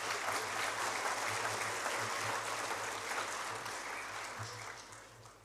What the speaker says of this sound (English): Might clap them away as they depart